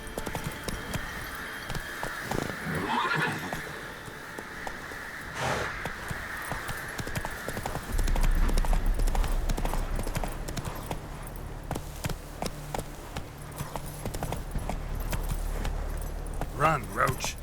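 Roach the horse gallops in The Witcher 3: Wild Hunt on PS5, with steady rapid hoofbeats close by over game ambience, and a voice speaks during the run.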